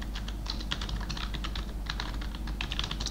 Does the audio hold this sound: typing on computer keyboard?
yes